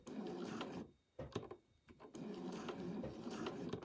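A domestic sewing machine set to a short stitch length of 2 stitches curves for a stocking garland, its motor whirring in bursts with brief pauses between runs.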